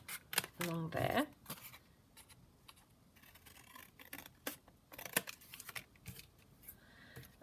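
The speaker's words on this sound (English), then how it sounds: "So I'm just going to cut that along there." Scissors cut paper for junk journal tags: a few short snips and rustles, close and fairly faint, with a louder burst of handling noise near the start.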